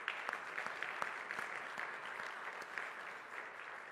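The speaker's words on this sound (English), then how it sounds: "Let's give them a round of applause." An audience applauds in a broad, continuous patter of many hands clapping, with a few sharper individual claps standing out, fairly distant and steady throughout.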